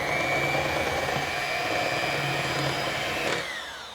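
An electric mixer whirs steadily through strawberry cupcake batter with milk, a loud continuous motor drone with a sustained whine that shifts slightly in pitch before winding down at the end.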